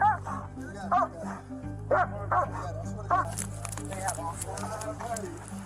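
A dog barks inside a police car, several sharp, close barks and yips in quick succession, with a steady engine hum beneath and people talking over it.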